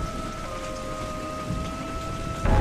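Heavy rain pours steadily in a thunderstorm, a continuous loud hiss with low rumbling thunder that swells near the end, with no voices.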